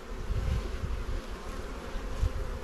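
Bees at a hive drone in a low, steady buzz close by, with wingbeats swelling and fading briefly over a couple of seconds and nobody speaking.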